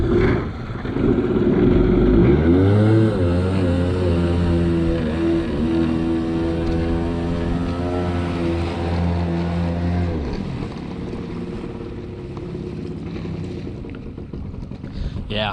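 Sea-Doo-style jet skis, a Ripper and a JS300, with one revving up hard on open water, engine pitch climbing steeply for several seconds, then holding a loud steady roar before easing off, with wind buffeting the mic.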